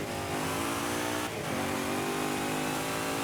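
A 500-horsepower rear-wheel-drive A-class car roars loudly and steadily in Forza Horizon, with a brief dip around a gear change before the revs climb again.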